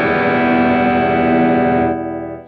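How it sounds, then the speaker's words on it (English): A guitar plays through a dark, heavily compressed distortion pedal with the tone turned up toward the treble, one sustained saturated chord ringing loud and steady, then dropping slightly in level as it decays. "Even with the tone kind of cranked, you know, more in the high side on here, it's still kind of a dark distortion."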